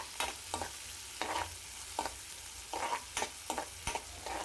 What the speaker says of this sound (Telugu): మంచిగా కలుపుకొని అల్లం వెల్లుల్లి పేస్ట్ పచ్చివాసన పోయేంత వరకు మంచిగా ఫ్రై చేసుకోండి